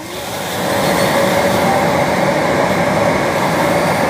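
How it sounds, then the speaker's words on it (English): A EUREKA E10s robot vacuum empties itself at its dock with a loud, steady rushing suction roar that rises in the first second and then holds constant. "Now it's backing up, and it's going to auto-empty too."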